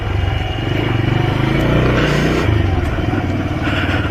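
A motorcycle is ridden through narrow city lanes on the way to a Durga Puja pandal. The engine drones loud and close throughout, with a steady throb and slight rises in revs.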